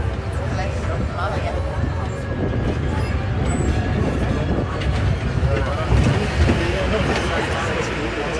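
A tourist road train ride, the Happy Train in Malia, Crete, gives a steady rumbling engine and road noise that lasts the whole stretch, with people talking over it.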